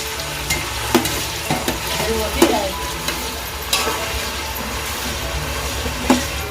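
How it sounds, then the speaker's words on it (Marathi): Tomatoes stirred into a frying onion-garlic tempering for a large home cooked pot of black-eyed peas: steady loud sizzle with repeated scraping knocks of a spoon against the pan, no talk. "इकडे टोमॅटो सुद्धा घालून घेतोय"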